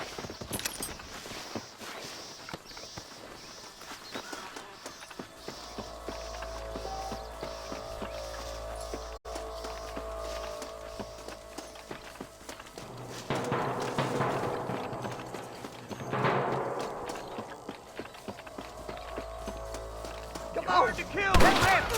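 Horse hooves clip-clopping and galloping in the Western video game Red Dead Redemption, a steady mid-distance beat beneath in-game shouting, music and scattered gunfire, growing louder toward the end.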